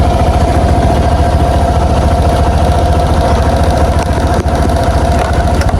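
A motor engine idles close and loud with a steady, even rumble and clatter that continues unbroken for about six seconds, with no talking.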